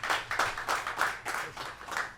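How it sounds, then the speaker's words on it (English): A small live studio group at an esports Major in Stockholm claps briefly, quick uneven hand claps in a short burst of modest, fairly close applause. "I think the crowd deserves a clap"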